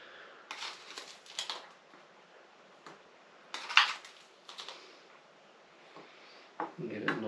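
A spoon clinks and scrapes in a vessel, stirring tea into supermarket juice for homemade cider, in short irregular bursts with quiet pauses between them.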